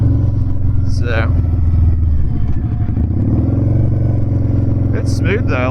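A Harley-Davidson V-Rod motorcycle engine rumbling steadily at low pitch while riding, with a rider talking over the loud, continuous drone.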